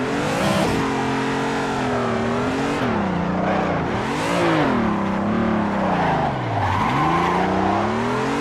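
A BMW M3 or Toyota AE86 drifts in Assetto Corsa, the engine revving up and down in sweeping waves while the tires squeal continuously, loud and close.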